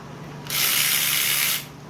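A ratchet spinning out an 8mm bolt on the starter cap of a Honda TRX400ex, one continuous rapid clicking burst lasting about a second, close and clear.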